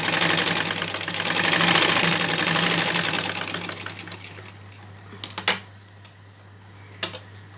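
A sewing machine stitches a plain seam on fabric, running steadily and fairly loud for about four seconds before slowing and stopping, followed by a few short, sharp clicks and knocks.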